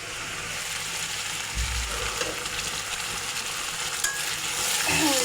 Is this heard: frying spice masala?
yes